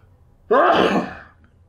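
One loud, close sneeze bursts out of a quiet background and trails off quickly.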